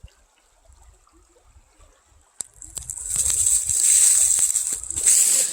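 Clear creek water flowing and splashing over rocks in a wooded stream in Kanawha County, West Virginia, starting faint and swelling to a steady, close rushing wash.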